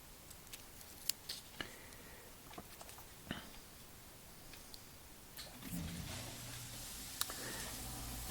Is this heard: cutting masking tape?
yes